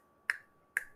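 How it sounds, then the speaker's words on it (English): Two crisp finger snaps about half a second apart, close and sharp against a quiet room. "I'm snapping my fingers."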